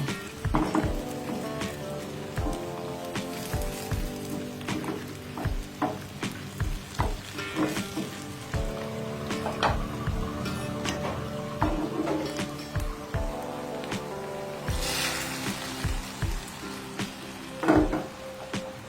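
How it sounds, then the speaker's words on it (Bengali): Sizzling tempering spices poured into a pot of beef for kala vuna, followed by repeated scraping and stirring knocks over a quiet fry, close by and without talk. "এখন আমি ফোড়নগুলিকে মাংসের মধ্যে ঢেলে দিব"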